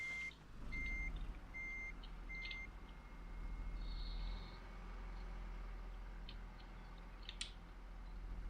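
A tow truck reverses while parking, its reversing alarm giving a few evenly spaced high beeps at the start over a steady engine rumble, followed by idling and a brief clatter near the end.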